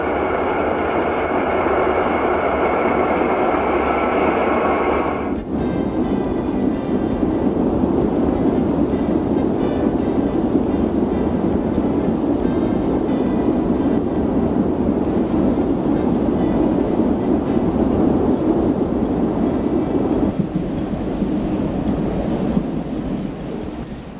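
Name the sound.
eastbound freight train pulling out downhill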